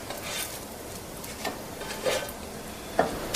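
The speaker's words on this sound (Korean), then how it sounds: "앞뒤로 노릇하게 구워내 주시고요" Tteokgalbi (Korean minced meat patties) sizzle steadily in a frying pan, with occasional light scrapes and taps of a utensil against the pan.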